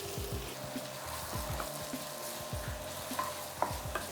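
Black pepper powder, Kashmiri chilli powder and garam masala are stirred in a frying pan, with a low steady sizzle beneath repeated soft scraping strokes and a few light utensil taps, close and fairly quiet.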